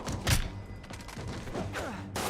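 Video game gunfire rings out as a sharp close shot at the start, then softer scattered pops and thuds against a low game background.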